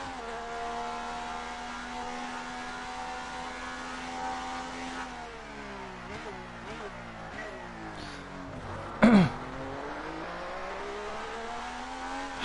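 An Alfa Romeo Formula 1 car in the F1 2019 video game, racing at the Russian Grand Prix, holds a steady high engine whine, then drops and revs through downshifts and braking, with a short sharp burst near the end.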